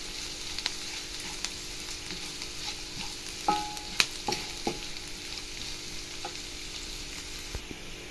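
Carrots and beans sautéing in a pan for semiya kichadi, a steady close sizzle with occasional soft scrapes and taps from stirring.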